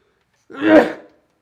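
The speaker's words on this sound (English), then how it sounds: "Got the sneeze." A single sharp sneeze bursts out close by, rising quickly and fading within about half a second, with silence before and after.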